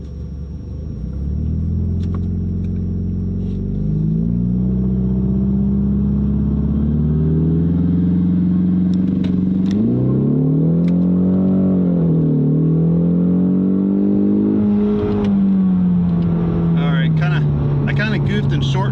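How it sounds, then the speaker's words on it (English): A Ford Mustang EcoBoost engine revs and holds steady, its pitch rising and dipping as the throttle is worked to build boost, loud and close, building toward a launch. "Once I get up to where I think is good, I'll launch the car"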